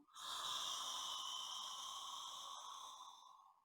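One long, deep yoga exhale, a close, soft breathy hiss lasting about three seconds that fades gradually at the end, with no talking.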